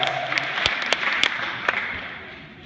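Applause from a hypnosis show audience in the Exeter High School auditorium during an after-prom event: a short, moderate burst of clapping with a few sharp, distinct claps standing out, fading slightly toward the end.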